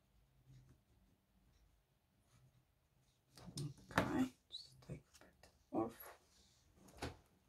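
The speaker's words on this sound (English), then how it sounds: "just draw with your pen around" A pen traces around a paper pattern pinned to fabric while sewing doll clothes, giving soft scratchy strokes that grow louder and more uneven after a quiet start, mixed with handling rustles.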